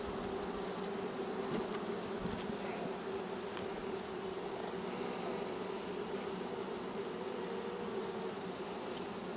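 Honeybees buzz steadily in an opened hive during a first spring inspection, a dense, continuous drone close by with no talking.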